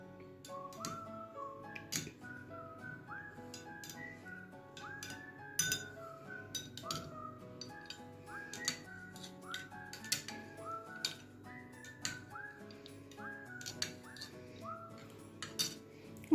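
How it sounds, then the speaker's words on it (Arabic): A spoon stirs honey into hot water, clinking against the inside of a glass in a quiet, irregular series of light taps, with faint background sounds and no talking. "وغادي نحركو داك العسل يذوب لينا مع الماء السخون"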